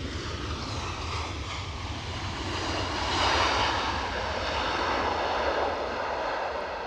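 Eurowings airliner on approach to Edinburgh Airport, a broad steady engine roar that swells slightly in the middle as it passes, heard alone without talk.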